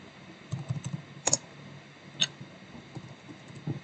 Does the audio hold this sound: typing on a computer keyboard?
yes